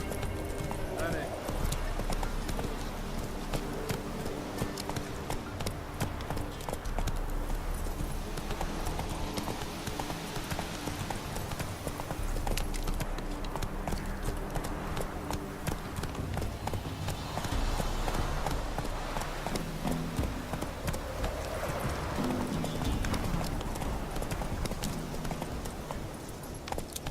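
Roach, Geralt's horse in The Witcher 3, galloping with rapid rhythmic hoofbeats throughout, mixed with game music and occasional talk over the top.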